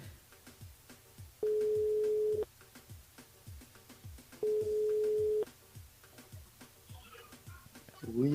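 A phone call rings through to a radio station switchboard: two long, steady ringback tones with a pause between them, over a faint ticking background.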